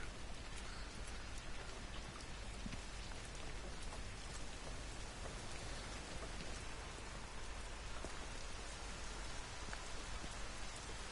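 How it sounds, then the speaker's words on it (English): Steady, dense rainfall in the video game Everybody's Gone to the Rapture patters continuously throughout, an even hiss of drops with no voices or breaks. "It's still raining."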